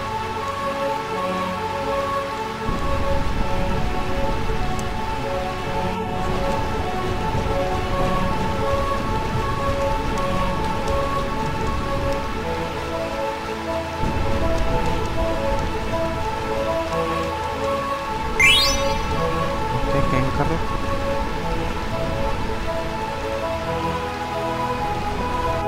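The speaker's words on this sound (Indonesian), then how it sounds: "ini Burmesia kayaknya kota-kota hujan ya" Rain pours over Burmecia in Final Fantasy IX, a continuous dense patter with low rumbling beneath and a steady tonal drone, with a brief rising whistle-like sweep partway through.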